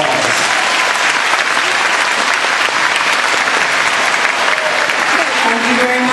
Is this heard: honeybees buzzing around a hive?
no